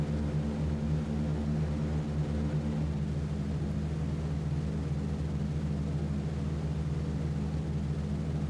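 Droning multi-engine propeller roar of a B-17 bomber in a flight video game, a steady, continuous hum that holds at even loudness throughout with no talk over it.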